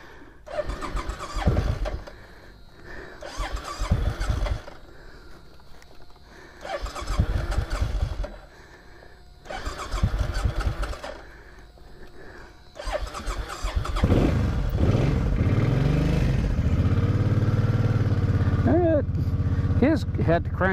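Motorcycle engine starting for the first time of the year: four or five separate cranking bursts with pauses between them, then the engine catches near the end and keeps running steadily, close and fairly loud.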